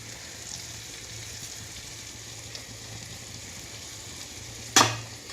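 Chili, turmeric and salt being stirred into a frying pan give a steady low sizzle with faint scraping, ending in a single sharp clatter near the close; nobody talks.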